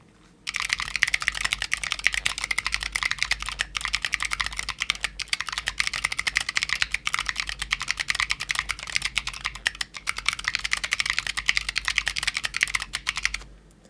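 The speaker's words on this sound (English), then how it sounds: "And here's my new Corne RG2 keyboard." Steady, fast typing on a Corne RG2 mechanical keyboard, a continuous patter of crisp keystrokes at moderate volume that runs without pause.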